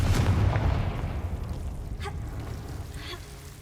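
Blasting spell in a Harry Potter video game: a deep, booming explosion hits at the start, then rumbles and decays over several seconds with scattered debris-like crackles.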